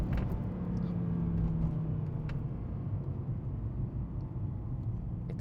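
Mercedes-Benz C 63 AMG W204 V8 rumbling steadily at close range while downshifting for a red light, a deep continuous engine drone with slight rises in pitch and no talk over it.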